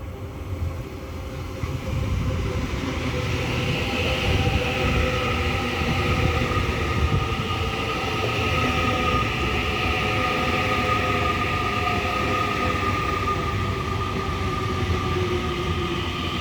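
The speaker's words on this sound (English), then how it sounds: "D148 and D69 now departing platform number 2." A train rumbles steadily alongside a platform at Cockle Creek with a continuous low roar and faint high-pitched wheel squeal, no voices heard.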